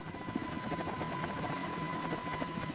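Boeing AH-64 Apache helicopter rotor during shutdown, a steady, fairly quiet rhythmic whop of blades under a constant turbine whine, with no talk.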